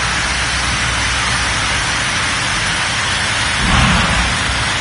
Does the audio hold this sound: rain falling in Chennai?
yes